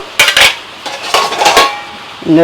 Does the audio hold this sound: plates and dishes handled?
yes